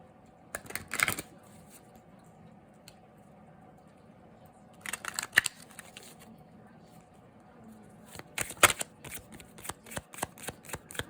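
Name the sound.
shuffling Moonology oracle cards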